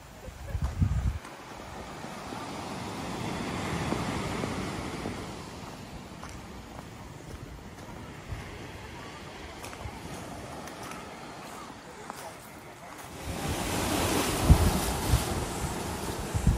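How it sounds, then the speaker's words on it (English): Ocean waves wash onto the beach at Ohope in the Bay of Plenty, New Zealand, a soft rolling surf mixed with gusty wind buffeting the microphone, swelling louder near the start and again toward the end. "Just about got caught by a wave."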